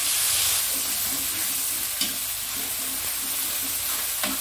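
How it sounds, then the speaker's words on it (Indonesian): Shallots, garlic and ground spice paste sauté in a pan, giving a constant close sizzle with faint stirring taps and a couple of sharper scrapes, no voices. "Lihat bumbunya, bawang merah, bawang putih kita tumis."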